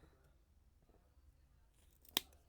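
A single crisp snip of scissors cuts material close by during resin crafting, in an otherwise quiet room.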